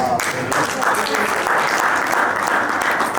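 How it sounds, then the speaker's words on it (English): An audience claps together in a steady, continuous wash of applause, fairly loud and unbroken, at a Gambian outreach mission event in Nigeria, with voices faintly mixed in. "Clap for that."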